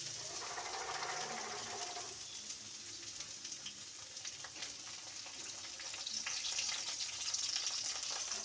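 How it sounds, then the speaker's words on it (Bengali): Carrots and beans fry in a pan for vegetable dal, with a steady close sizzle and bursts of stirring that swell louder near the end. "5 মিনিট এটাকে একটু ভাজা ভাজা করতে হবে।"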